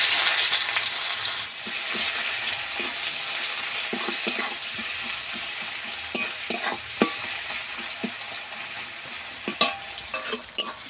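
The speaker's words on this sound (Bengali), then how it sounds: "পেঁয়াজটা আমি লাল করে ভেজে নেবো" Onions and panch phoron fry in oil left from frying potatoes, a steady close sizzle broken by occasional clinks and scrapes of stirring, with no talk.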